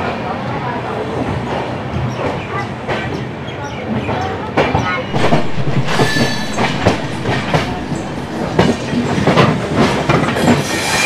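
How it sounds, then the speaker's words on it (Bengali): Jammu Tawi Express 13152 pulling slowly away from Dhanbad platform, a steady close rumble of rolling coaches with rhythmic wheel clacks and occasional sharp squeals and knocks, a voice faintly present underneath. "ছেড়ে দিল কিন্তু আমাদের ট্রেন ধানবাদ প্ল্যাটফর্ম থেকে। এবার আমাদের ট্রেন আস্তে আস্তে এগাচ্ছে কুমারডুবির দিকে"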